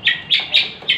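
A long-tailed shrike sings in a close, loud series of four sharp, bright chirping notes, evenly spaced and heard alone without any voices.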